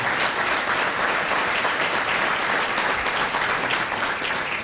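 A large audience claps continuously at a business awards night, a dense, even wash of applause that holds steady from start to finish.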